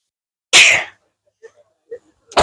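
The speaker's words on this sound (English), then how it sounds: "I'm about to sneeze." A single sharp, loud sneeze bursts out close by, followed by near silence and faint small sounds before another sudden noise at the end.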